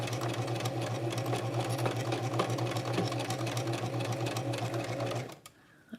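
A sewing machine stitches a tulle arm ruffle for a ballet costume in a steady, rapid mechanical hum with a faint clatter, running continuously before stopping abruptly near the end.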